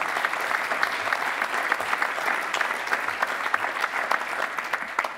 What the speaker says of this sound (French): je voudrais qu'on applaudisse tout le monde